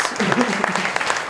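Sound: audience applause after a startup pitch

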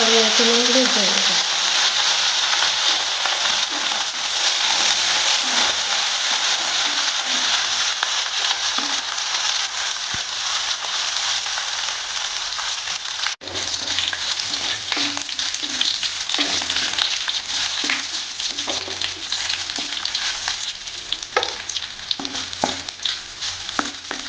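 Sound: mustard seeds spluttering in hot coconut oil

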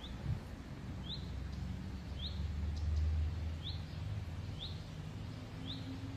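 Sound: birds singing outdoors

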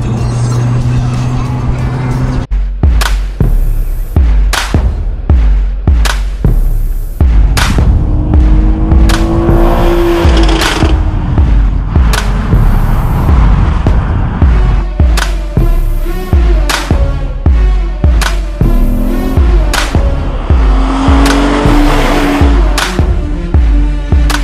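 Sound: V6 car engine revving to redline

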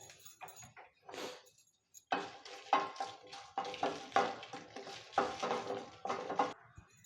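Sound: dry roasting chillies in a pan

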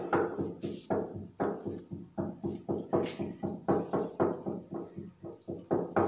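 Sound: pounding noise from workers nearby

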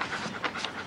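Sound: dog panting

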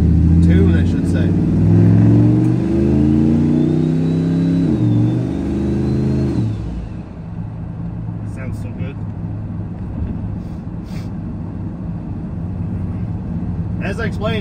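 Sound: big cam LS engine car idling at a stop sign

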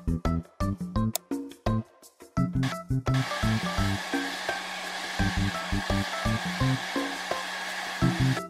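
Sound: hair dryer drying a toy kangaroo in a video game

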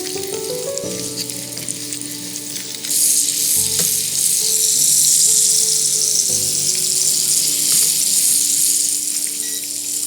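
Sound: apples frying in melted butter

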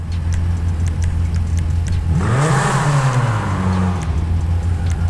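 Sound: car engine revving while tuning exhausts in video game GTA Online

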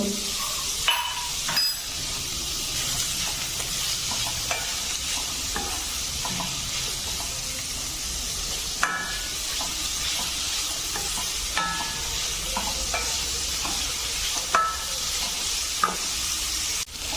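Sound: onions sautéing in a pan

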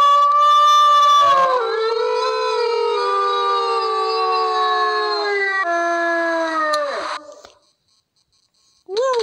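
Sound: wolf howling in the video game WolfQuest

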